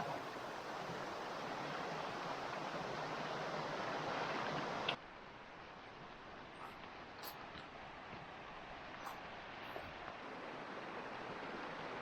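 Wilson Creek rushing over rocks at a trail crossing in Pisgah National Forest, a steady broadband water roar heard close up, then dropping to a quieter continuous flow with faint clicks.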